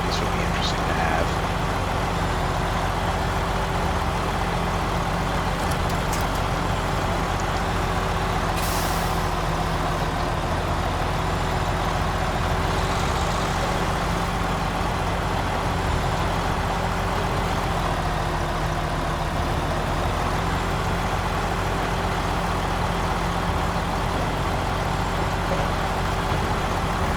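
A Mack truck in SnowRunner hauls a heavy load of metal, its engine droning low and steady throughout with a constant rumble, joined by brief air-brake hisses and faint mechanical clatter.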